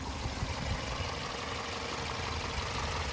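A 2023 Toyota Highlander XLE's 2.4-liter turbocharged four-cylinder idles under an open hood, a steady, fairly quiet low rumble with a faint even hiss, close and unchanging throughout with no talking.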